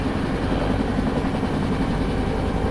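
A helicopter in the X-Plane 11 flight simulator drones steadily throughout, a dense, even rotor and engine rumble with no pauses or voices over it.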